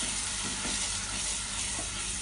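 Ground onion paste being stirred as it fries in oil with spices for a mutton kofta curry: a continuous loud sizzle with soft scraping stir sounds and no talk.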